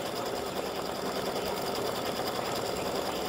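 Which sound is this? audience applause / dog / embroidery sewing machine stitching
embroidery sewing machine stitching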